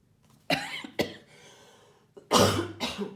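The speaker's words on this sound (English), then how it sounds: "Apologies for the coughing." Several harsh coughs from one person close by, two short bursts followed by a longer, rougher coughing fit, with quiet breathing between.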